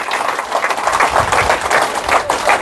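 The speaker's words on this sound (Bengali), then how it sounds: "স্যারের জন্য জোরে করতালি হবে।" A seminar audience claps in uneven, dense applause that stays loud and steady for a few seconds, with no clear voices over it.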